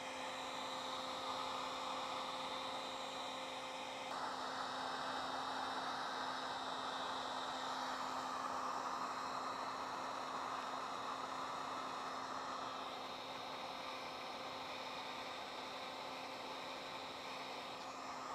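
A heat gun running on high blows hot air while heating a new ACS Stage 3 aero spoiler on a C7 Corvette Grand Sport: a steady, close, unbroken whoosh with a faint motor whine, heard alone for the whole stretch.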